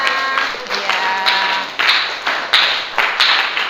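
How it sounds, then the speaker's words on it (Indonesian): Schoolchildren in a classroom clap for their classmates, sharp bursts of hand claps coming in uneven waves, mixed with young voices calling out. "Kasih tepuk tangan dulu buat teman-temannya"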